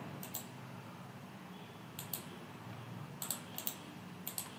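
A computer keyboard is tapped in a few sparse clusters of soft keystrokes while a command is typed on an OpenSUSE system, quiet and close over faint room hiss.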